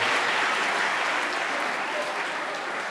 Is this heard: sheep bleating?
no